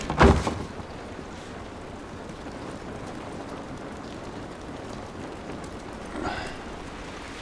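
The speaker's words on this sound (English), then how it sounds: "This rain ain't gonna do us any good." Steady rain patters on surfaces outdoors in The Last of Us video game, a constant soft hiss throughout with a brief louder burst at the start and a slight swell near the end.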